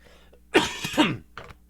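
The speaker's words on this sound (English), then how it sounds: "I'm just coughing up a storm over here." Two harsh coughs close together, followed a moment later by a shorter, quieter cough, all close up with no talking.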